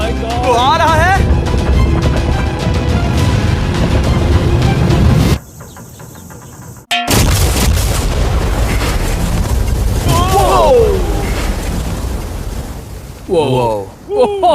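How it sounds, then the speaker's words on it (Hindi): A loud roaring blast with heavy rumbling noise, followed by a sharp burst, while excited voices shout over the commotion. "वो धमाका बहुत ही विशाल होगा।"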